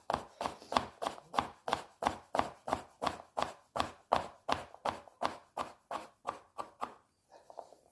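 A knife chops gherkins on a board for beef stroganoff, about twenty quick, evenly spaced close taps in a steady rhythm that stop near the end, followed by faint handling noise.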